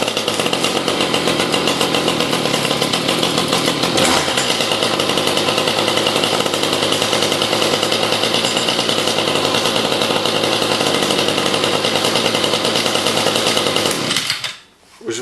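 A Kawasaki brushcutter's small engine roars loud and steady after starting, a harsh continuous buzz that holds for about fourteen seconds before cutting off abruptly.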